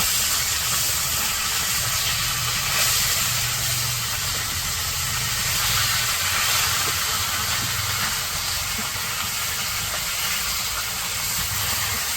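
Small puti fish fry in mustard oil in a village kitchen wok, giving a steady, loud, even hiss of sizzling oil that continues without pause.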